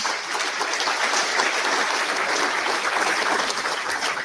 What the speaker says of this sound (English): That applause right there?